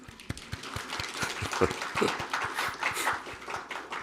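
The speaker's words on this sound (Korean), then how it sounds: "박수 한번 해주세요." A church congregation at a special early-morning prayer service claps in scattered, uneven applause that swells and fades, close and moderately loud.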